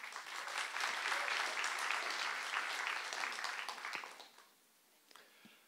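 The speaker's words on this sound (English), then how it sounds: "please give a round, warm, warm welcome and applause to Ilya Oskolkov-Tsentsiper." A conference audience at a UX event applauds to welcome a speaker, a full, steady round of clapping that fades out, leaving a few scattered claps and quiet.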